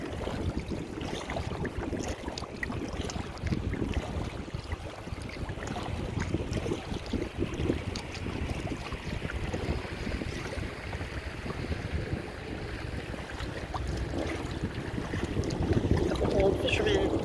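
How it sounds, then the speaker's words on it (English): Small waves slap and splash against a kayak on the Quinnipiac River in a continuous close rush, mixed with gusty wind buffeting the microphone. "Ooh, we get some waves."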